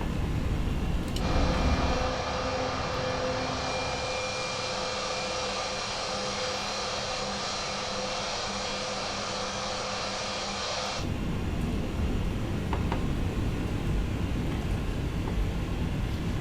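Idling MD-11 jet engines in a flight simulator game, producing a steady broadband whine and roar that holds constant for about ten seconds before the tone changes to a rougher, noisier cabin-like rumble.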